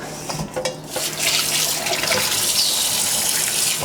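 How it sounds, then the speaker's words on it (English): Tap water runs steadily into a sink as salt is rinsed off a whole chicken being prepared for sous vide Hainan chicken rice, a continuous close gush with no talking. "Let's wash off all that salt."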